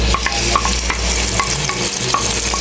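Cubed chicken breast marinated in soy and lemon sautéing in a pan, with a loud close sizzle and repeated scraping stirs at an uneven rhythm.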